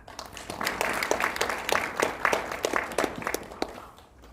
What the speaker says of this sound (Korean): 여러분 격려의 박수 부탁드립니다